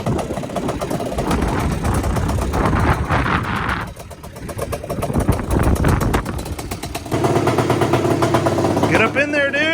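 A rebuilt Yamaha Banshee 400 ATV two-stroke engine runs loud and close, revving and buzzing with rising and falling pitch before settling into a rougher idle, while someone talks over it.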